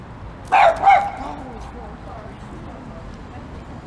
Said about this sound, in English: A little bit of a doggy meet cute going on.